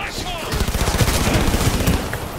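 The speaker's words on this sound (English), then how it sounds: "Damn, I totally missed it with the machine gun." Rapid machine gun fire in the shooter video game Cyberpunk 2077, a loud, dense burst of rattling shots lasting a couple of seconds with no pause.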